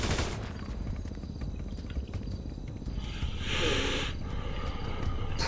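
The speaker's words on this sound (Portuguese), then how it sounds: "eu tô tentando atirar nele" Gunfire in a GTA 5 roleplay match, with rapid crackling shots in a dense, sustained burst under a hissing, noisy game soundscape, fairly faint and distant.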